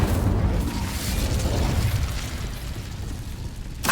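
Incendio fire spell in Hogwarts Legacy bursting out in a loud, close whoosh of flame that fades over a few seconds, with a fresh burst starting right at the end.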